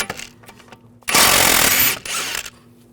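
A 16mm socket tool whirs in a short, loud burst of about a second, loosening the sway bar link nut on a 2007-2013 BMW 328i front strut, with a few clicks and clanks of metal handling before and after.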